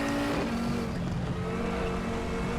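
Audi TT RS race car engine in the RaceRoom video game on the Nordschleife, a steady loud high-pitched drone held at full throttle with no gaps.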